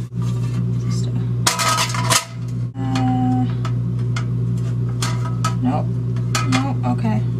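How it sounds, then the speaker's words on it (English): A heavy metal springform cake pan is handled up close, producing loud clanks and rattling metallic knocks in short bursts, with a few lighter taps and clicks spread over a constant low hum. "it's a springform pan"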